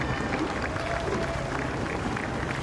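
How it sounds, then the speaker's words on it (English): Scattered spectator applause for the Oxford Brookes University rowing crew at Henley, a faint continuous patter of claps over open-air crowd murmur with no clear talk. "You hear the splatter of claps there for them as Brookes."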